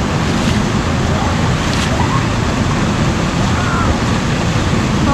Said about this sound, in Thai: ถึงแล้วน้ำตกทานมะยม